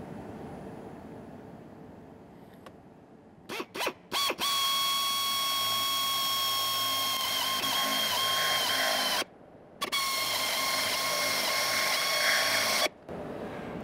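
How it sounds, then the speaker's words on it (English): Power drill fitted with a step drill bit boring through a vehicle's pillar while fitting a snorkel, a loud steady whining grind with a few short starts, then a long run, a brief pause and another sustained run, no talking. "I'm just going to let the drill bit do all the work and put absolutely no pressure on there."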